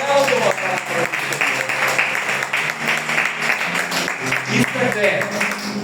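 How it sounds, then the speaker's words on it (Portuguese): Church congregation applauding together in a steady, dense wash of clapping that fills the room, with voices mixed in throughout. "Aplaudam a palavra do Senhor."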